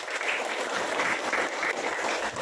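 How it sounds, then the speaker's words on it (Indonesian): Classroom of students clapping together for a classmate's answer, a loud, dense burst of many small hands clapping steadily throughout. "kasih tepuk tangan untuk Indira."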